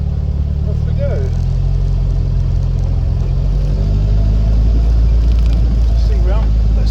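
A 1956 Triumph TR3 pulling away, its engine rumbling loud and close with a steady low drone that builds as it accelerates through the gears.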